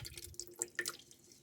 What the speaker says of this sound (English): I'm just going to let it drip